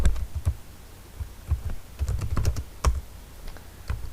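Commands typed on a computer keyboard while configuring a network switch: irregular clusters of close, crisp key clicks and thumps, with brief pauses between bursts, alone and without talk.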